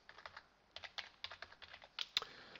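Quick keystrokes on a computer keyboard as dates go into a spreadsheet, a steady run of light, close clicks with a couple of sharper taps near the end, no talking.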